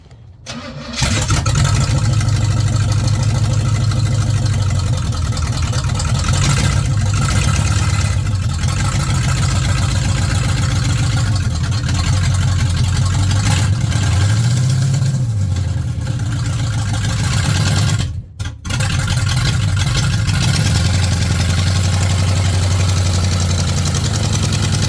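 A Pink Jeep with flat tires and no brake drums starts up loud and close, then revs in rising and falling surges through a short peel-out, with a brief cut before the engine roars again.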